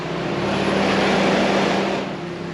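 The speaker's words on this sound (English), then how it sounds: "My fans are louder than my freaking car." Electric cooling fans on a Toyota JZX100 run loudly in a steady broadband whoosh with a faint low hum, swelling slightly in the middle and then easing off a little.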